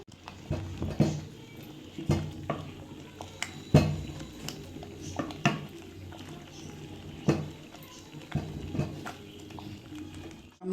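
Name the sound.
stirring boiling millet porridge with wooden masher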